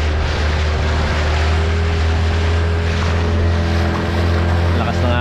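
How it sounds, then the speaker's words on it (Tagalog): Loud, constant rush of water and heavy waves slapping against a fishing boat, with a low engine drone running underneath the whole time. "Lakas ng alon, oh."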